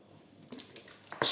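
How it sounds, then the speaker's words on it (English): Water poured from a bottle splashes onto a floor, with a brief uneven burst of spattering and trickling, close and fairly soft. "spilling all the water on the floor."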